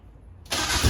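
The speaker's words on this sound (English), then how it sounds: "I'm starting the Miata" A Mazda Miata engine cranks and catches abruptly partway through, jumping from near silence to a loud, steady running rumble.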